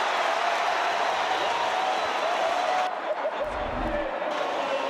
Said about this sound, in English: Well, the crowd love it.